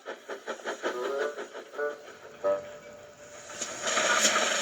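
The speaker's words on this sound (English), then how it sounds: "He chuffed dutifully through the beautiful countryside." A steam train engine chuffs in a quick, regular rhythm of puffs that slows and fades, followed by a hiss of escaping steam and a brief whistle-like tone.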